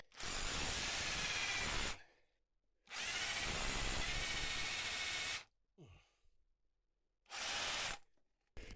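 A power drill grinds loudly into hard ground in three bursts, two long and one short, with quiet gaps between them, with water poured into the hole, at a gold prospecting site.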